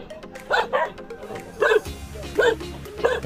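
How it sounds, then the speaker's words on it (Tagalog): A dog barks four times in short, spaced bursts, fairly close, near a boat fishing spot on the coast of Cavite, with low background sounds between the barks. "tawag ang aso"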